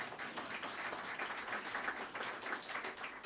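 Steady applause from an audience fills the whole stretch, a dense, even patter of many hands clapping without a break.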